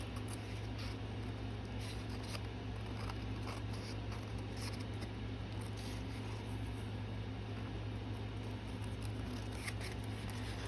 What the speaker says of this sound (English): Because now I have to cut around all of this to get the edge.